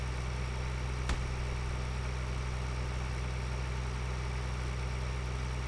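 Tractor engine in the Farming Simulator 2013 game, a steady, even drone with low tonal hum running unbroken throughout, one faint click near the start.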